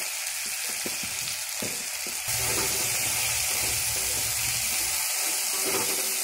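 Vegetables fry in a pan with turmeric and chili, giving a steady loud sizzle and crackle throughout. The frying swells noticeably partway through as the pan gets busier.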